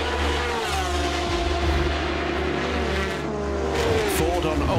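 Ford and Ferrari GT race cars battle on a circuit during an endurance race, engines roaring loud and continuous with shifting pitch as they run close together, under a commentator's steady talk.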